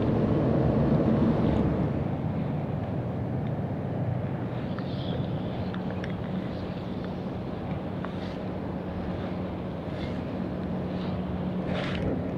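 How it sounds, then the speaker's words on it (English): Boats pass on open tidal saltwater near the shoreline at Shine Tidelands State Park, leaving wake, their engines a steady low rumble with a faint hum, blended with wind buffeting the microphone and light water wash, continuous and moderately distant with no talking. "I don't know where these boats are going. They're leaving a lot of wake though."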